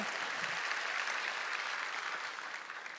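Steady applause from a large audience at an evangelistic meeting in an indoor gymnasium, dense and even throughout before tapering slightly at the end, with no voices on top.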